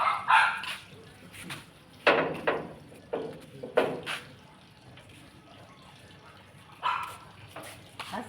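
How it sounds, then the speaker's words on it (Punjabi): A few sharp dog barks ring out in bursts with pauses between, moderately close, over a quiet background with faint dripping water. "ਪਹਿਲੀ ਭੌਂਕਣ ਲੱਗੇ ਨੇ"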